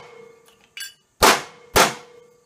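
Brass struck with a hammer between upper and lower dies while forming a falconry bell, two loud, sharp metallic clangs about half a second apart following a lighter tap, each ringing briefly over a faint steady hum.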